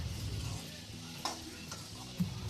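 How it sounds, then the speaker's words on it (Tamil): Sliced onions sauté in a pan with salt and a pinch of turmeric for a Tamil crab thokku, giving a steady low sizzle broken by a few scraping stirs of a spoon against the pan. "வெங்காயம் முழுமையாக வதங்கணும்"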